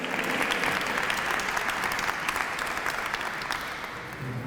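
An audience at a breast cancer awareness luncheon in Cleveland applauding, dense steady clapping from a large crowd that fills the whole stretch and eases slightly at the end.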